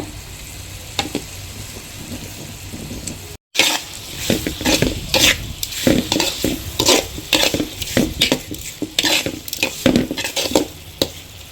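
Chopped onions and tomatoes sizzle in a pan for a Tamil fish curry (meen kulambu), with a steady fry at first, then after a brief dropout, loud repeated scraping stir strokes of a spoon against the pan.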